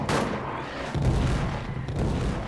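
Artillery barrage in the WWI trench game All Quiet in the Trenches: continuous low booming blasts rolling under dense rumble, with a heavier impact about a second in, no speech.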